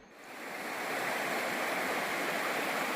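A river rushes beside a hiking trail on the Takitimu Track at Linton Station, a steady broadband roar of flowing water that swells in the first second and then holds constant and fairly loud, with no voices.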